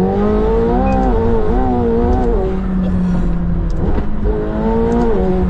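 A McLaren 720S sports car accelerates hard, its engine note rising in steady revving sweeps with gear changes, loud and close from inside the cabin.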